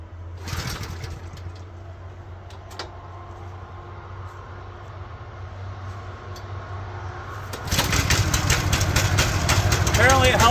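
A gas post hole digger engine idles nearby during warm-up with a low, steady throb, then jumps to a louder, harsher running roar near the end, and a person speaks briefly.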